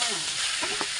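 Loud, steady sizzling of pork belly frying in curry paste in a hot pan, with a couple of soft scraping stirs near the end.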